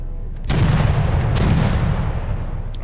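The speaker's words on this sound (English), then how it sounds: "Some incoming fire from our ships." Ship cannon fire in the Naval Action game, a sudden loud boom that swells into a long, rumbling roar with a second blast layered in, close and heavy, filling the whole stretch.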